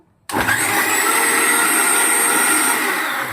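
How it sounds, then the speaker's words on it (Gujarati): A mixer grinder runs steadily, grinding a spice paste with a little cold milk added for banana kofta curry, a loud continuous whir that starts abruptly after a brief silence and holds alone. "હવે આપણે રસને પીસી લેશું"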